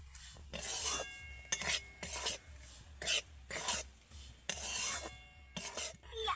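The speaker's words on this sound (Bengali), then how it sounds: "আমি সুজির সাথে খুব ভালো করে এই গুঁড়ো দুধটাকে মিশিয়ে নেব" Powdered milk being stirred into semolina in a pan while making barfi: repeated gritty scraping and rasping strokes in short bursts separated by brief pauses, close and clear, with no talk.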